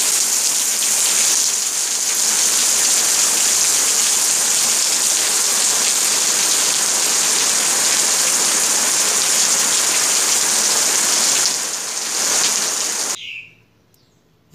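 Heavy rain shower pouring onto a garden, a dense steady hiss of falling drops that holds loud and even before cutting off abruptly near the end.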